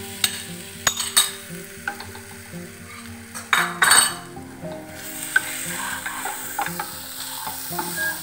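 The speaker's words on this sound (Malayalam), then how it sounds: "ആ ഏത്തയ്ക്കായും കൂടെ നമുക്ക് ഇതിലേക്ക് ചേർത്ത് കൊടുക്കണം" Cubed plantain tossed into a hot pan for a wheat and banana snack, sizzling steadily while a utensil scrapes and clinks against the metal in irregular strokes, close and fairly quiet.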